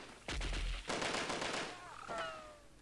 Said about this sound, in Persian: داشتم تیراندازی میکردم